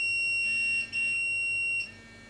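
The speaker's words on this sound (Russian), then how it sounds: "Пейджер светится огоньками светодиодов, жужжит зуммером, играет выбранная мелодия." A restaurant coaster pager gives off a steady high electronic tone in two long pulses with a short break between them, loud and close, with no talk.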